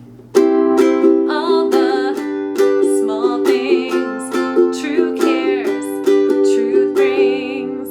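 A ukulele plays the strumming pattern for a song: bright chords strummed close and clear in a steady, even rhythm of sharp repeated strokes.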